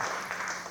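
Brief applause from an audience at a State of the City event, steady broadband clapping at moderate level throughout, with no voices on top.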